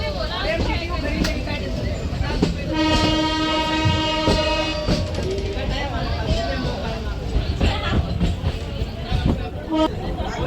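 The Patalpani–Kalakund heritage train rolls through the hills of the Vindhya range with a continuous rumble and rail clatter, and a loud horn sounds for a couple of seconds midway, while someone talks over it.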